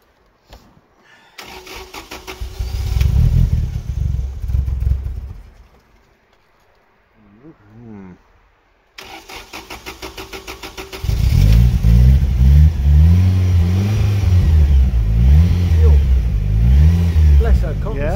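A Lotus Elan M100 sports car, back on the road after ten years, cranks over and catches, then its engine settles into a loud, steady running note with rising revs.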